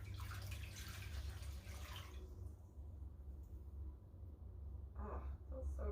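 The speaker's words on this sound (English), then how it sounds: "I'm going to rinse that off." Water splashes as a face is rinsed by hand at a basin, with close, busy splashing and dripping that thins out midway before a few more splashes return.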